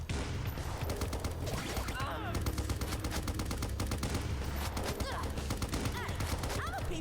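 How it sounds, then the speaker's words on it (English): Rapid missile and gun fire in the Huntdown action game, a dense, continuous volley of sharp repeated shots with no break, loud and steady throughout. "Is she shooting missiles at me now? Yes, she's shooting missiles."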